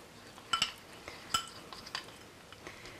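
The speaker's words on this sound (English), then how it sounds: "And stir that up." A spoon clinks and scrapes in a bowl of melting chocolate, giving light irregular taps and scrapes at close range in an otherwise quiet kitchen.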